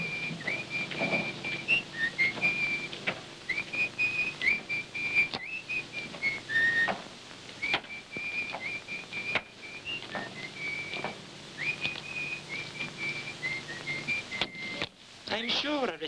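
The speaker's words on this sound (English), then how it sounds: "That whistling again." A person whistles a wavering tune in repeated phrases, fairly faint, over a low background hum with occasional knocks.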